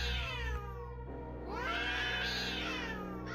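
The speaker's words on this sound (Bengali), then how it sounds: "বিড়াল দুটো মরিয়া হয়ে লুকিয়ে লুকিয়ে বিকট আওয়াজে নিজেদের ঝগড়া চালিয়ে যাচ্ছে" Drawn-out, wavering yowls from two fighting cats rise and fall, a tense caterwauling, fairly close and without any talking.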